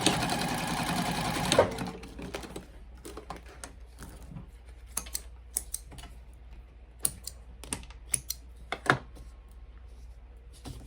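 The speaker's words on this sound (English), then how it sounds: "So you take the first card slot, lay it on the highest drawn line, stitch just across the bottom edge." A sewing machine stitches the leather card slot of a bifold wallet, opening with a fast steady whirring run, then settling into scattered close mechanical clicks and short ticking bursts, with no speech.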